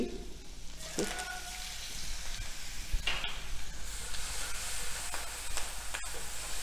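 Grated ginger and green chili fry in a pan with a soft, steady sizzle and a few clinks of stirring, fairly quiet and close, without talk.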